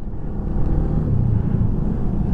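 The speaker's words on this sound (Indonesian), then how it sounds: "wih, truk sampai kayak ngene akeh." Heavy trucks, many of them hauling cattle, rumble past on a road through teak forest between Cepu and Purwodadi in Blora, a loud continuous low engine drone that stays close for the whole stretch.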